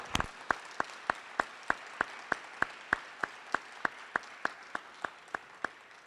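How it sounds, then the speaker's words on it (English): At a STEM event panel session, sparse clapping sounds for the departing panelists: a quiet, evenly spaced run of single sharp claps, about three per second, keeping a steady rhythm throughout. "if we could have a big round of applause for our panelists as they go"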